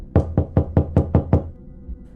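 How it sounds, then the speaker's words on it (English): Six sharp knocks rap on an apartment door in quick, even succession, close and loud, then stop abruptly, leaving a quiet room. "Just then I got a knock at my door."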